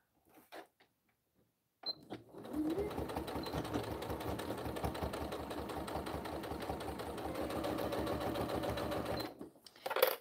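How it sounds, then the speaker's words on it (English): A sewing machine stitches across a diagonal zippered pouch in one steady, close run of rapid mechanical chattering lasting several seconds, with brief handling noises before and after. "We're going to sew across here."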